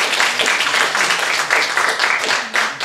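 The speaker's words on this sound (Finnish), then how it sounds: "Ja annetaan oikein aplodit mekin tässä Jeesukselle" A congregation at a Christian gathering claps steadily, dense and loud throughout, with a few brief voices mixed into the applause.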